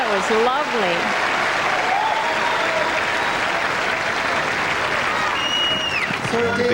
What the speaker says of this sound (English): Big crowd appreciating this.